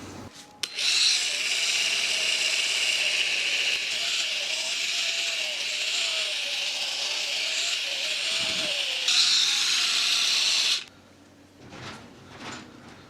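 Duratech cordless polisher buffing a car headlight, a steady mid-pitched whirring drone with a brief dip and surge before it cuts off, followed by faint handling noises.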